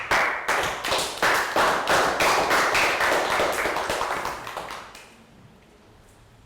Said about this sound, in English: Round of applause for Bangpon.